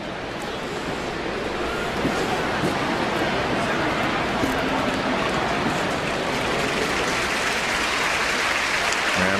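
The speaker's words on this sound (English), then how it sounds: "the crowd here in St. Louis giving him a nice ovation as he gets back to his feet" A baseball stadium crowd in St. Louis applauds and cheers in a dense, sustained roar that fills the space evenly, with a voice talking faintly underneath.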